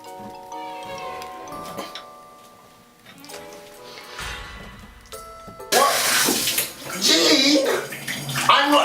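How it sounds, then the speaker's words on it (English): Shower water runs and sprays in a home bathroom, starting softly beneath a mix of tones and voices, then surging into a loud, steady hiss for the final seconds. "Hurry up in that shower. It's using too much water."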